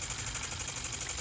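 Small reciprocating piston steam engine running and driving a phone charger, a faint, steady rhythmic chugging pulse with a high whine, alone and without talk.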